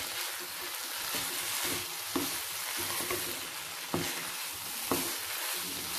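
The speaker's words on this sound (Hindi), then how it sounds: "हम इसे अच्छे से मिक्स कर लेंगे।" A spatula stirs chicken and noodle stuffing for Mumbai street-style Chinese samosas in a pan over steady, soft frying hiss, with a few crisp scraping clicks now and then.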